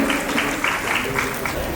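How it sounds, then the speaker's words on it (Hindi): Audience applause rings out at a school's first annual day event for a preschool and daycare, a steady wash of clapping that lasts the whole moment, with a voice faintly heard over it. "एक बार जोरदार तालियों के साथ please everyone put your hands together for him."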